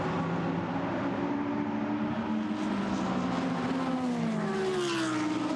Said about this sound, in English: The Lamborghini goes through.